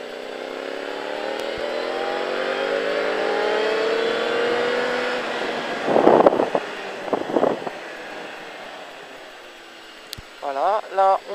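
A race car at the Pau-Arnos circuit holds steady engine drone at full throttle, with rising gear-change sweeps before a brief pause and a few short rasps at the end, while someone talks over it.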